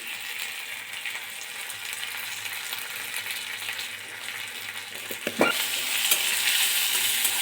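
Whole cumin, bay leaves, dried red chillies and garam masala sizzle steadily in hot oil in a kadai, a dense continuous hiss with a few stirring scrapes near the end.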